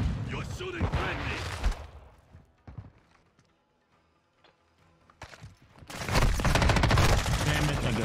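Video game M13 rifle fire comes in loud rapid bursts at the start and again near the end, with quieter mechanical clicks and scattered shots in a near-silent stretch between them.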